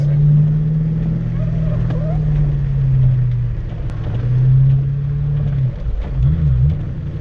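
A manual-transmission car's engine runs during a driving lesson in pouring rain. It holds a loud low hum that swells and dips as the gas is held, then wobbles unevenly near the end.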